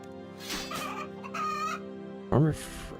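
Chickens cluck in the video game RuneScape (Taskman mode), a few short repeated clucks and then a sharper squawk, fairly clear and with no talking over them.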